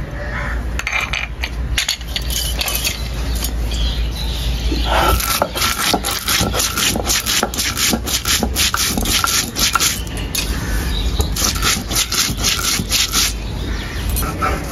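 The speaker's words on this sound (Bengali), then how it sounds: "এখন মাছের জন্য মশলা বেটে নেব।" Coriander, cumin and black pepper are ground into a spice paste for a fish dish, producing close, continuous rhythmic scraping and rubbing strokes that are steady and moderately loud throughout.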